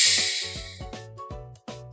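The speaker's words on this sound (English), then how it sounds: "Yes, it's a snake." A snake's hiss, a loud steady breathy hiss in the opening seconds that fades out, followed by a quiet repeating musical tone pattern.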